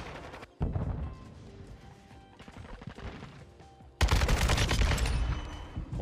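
Call of Duty MWII gunfire: a supported weapon cuts in with heavy, loud automatic bursts, drops to scattered shots, then slams back in with a dense, close volley.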